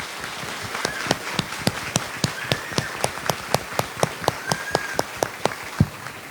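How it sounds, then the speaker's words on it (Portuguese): A Baptist church congregation claps at a Sunday evening service in honor of fellow members, sharp claps landing in a steady, evenly spaced rhythm of about three per second over a quiet room hush. "vamos aplaudir esses irmãos"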